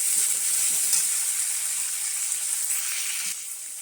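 Vegetables and small puti fish fry in a pan, giving a loud, bright, continuous hiss of sizzling oil that holds steady throughout and eases off slightly at the close.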